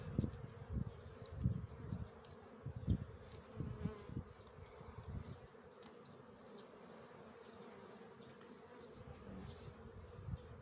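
A dense, steady buzz of many honeybees inside a hive during a post-winter inspection, droning continuously and close by with no talking.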